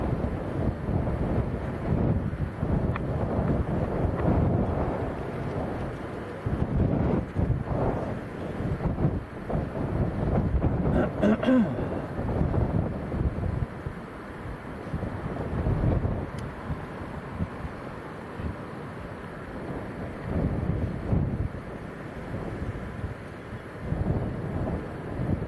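Strong wind at Leeds Bradford Airport, gusting around 40 mph, buffets the microphone as a steady, loud low roar for the whole stretch, with surges and dips and no talk.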